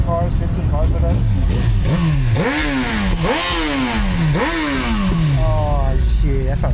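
A motorcycle engine at a car meet revs repeatedly through rising, falling pitch sweeps, loud and close, with other engines rumbling nearby and people talking underneath.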